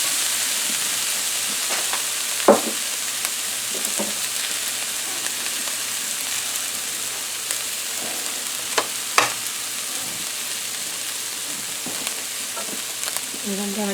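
Onions and beef frying in a hot pan for steak fajitas, a loud continuous sizzle close up with occasional stirring scrapes and brief pops, no talking.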